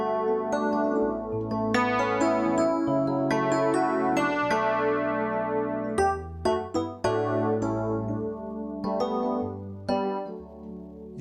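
An electric piano, tuned and treated with effects, plays chords and melodic lines over a warm string pad in a local worship-song style, sustained and steady with a few brief gaps, no voices.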